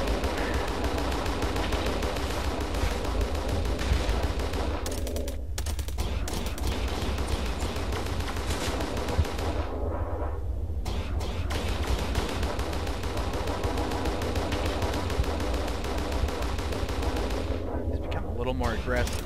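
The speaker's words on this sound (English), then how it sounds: "Try to scatter these missiles out a little bit so they have a better chance of hitting that second flux." Dense, continuous weapons fire and missile launches in Starsector space combat, a steady barrage of crackling shots and booms from a video game, with a voice talking over parts of it.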